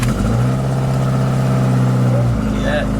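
A 2008 Subaru STI engine starts and runs loud and close with aftermarket exhaust, its steady hum rising and falling as it revs, with a brief squeal near the end.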